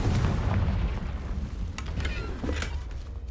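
A Confringo spell explosion in the video game Hogwarts Legacy, a deep, loud boom rolling into a rumbling aftermath with a few sharp cracks, and no talking.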